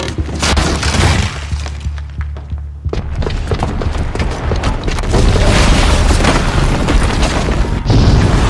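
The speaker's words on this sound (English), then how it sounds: "the booby trap on the bomb downstairs is gonna get set off" A bomb goes off in the video game Horizon Zero Dawn, a loud booming blast with shattering debris followed by a sustained heavy roar of rumbling and crashing that stays dense and loud throughout.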